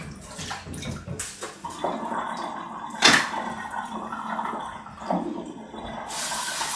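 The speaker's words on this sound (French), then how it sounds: "Donc on les rince à l'eau froide." Cold tap water runs and splashes continuously as apples are rinsed under it, with uneven bursts and clatters as the fruit is handled in the stream, close and fairly loud.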